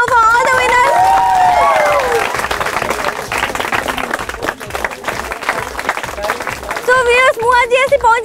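A crowd at a college freshers music event breaks into loud, sustained applause and cheering for the winners, with an amplified voice talking just before and after the clapping.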